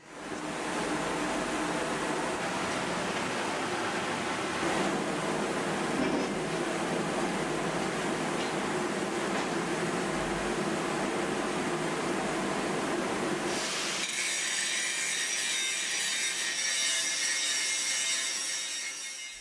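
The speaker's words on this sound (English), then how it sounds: "they're now using our plasma cutter to cut out all the rest of the frames" A plasma cutter cuts steel frames in a workshop, giving a steady, loud hissing roar that runs without a break. Near the end the tone shifts to a thinner, higher hiss.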